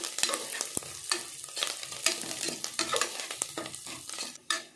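Ingredients for mango rice sizzling and frying in a pan with cashews added, with steady crackling and repeated close stirring scrapes throughout, no voices.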